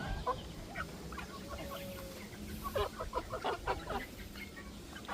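Rhode Island Red chickens cluck and murmur close by in a pen, with a busy cluster of short clucks and calls building toward the end over low farmyard background.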